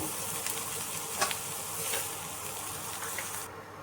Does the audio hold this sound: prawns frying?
yes